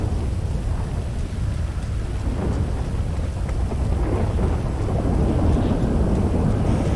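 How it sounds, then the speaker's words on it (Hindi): A thunderstorm in GTA 5 roleplay: dense, loud rain hisses continuously while deep thunder rumbles roll beneath it, swelling toward the end, with no voices. "बादल का इतना जोर की आवाज आ रहा है, कुछ समझ में नहीं आ रहा है"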